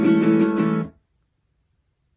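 Acoustic guitar strummed in strumming pattern 4 without accented strums, from a song played live with looping, a short run of rhythmic strums ringing close and clear, then cut to silence before a faint new attack.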